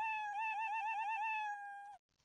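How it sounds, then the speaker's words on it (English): A cartoon cat's sound effect from a Scratch project gives one long, clear, wavering meow that holds steady for about two seconds, then cuts off into near silence. "whenever I clicked it, the cat would meow"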